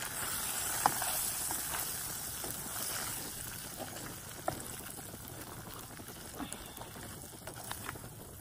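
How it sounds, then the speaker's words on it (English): Eggs for migas sizzling in a pan over a camp stove outdoors, a steady close crackling hiss with occasional small pops and light scrapes, no talk. "just need my eggs to scramble right now"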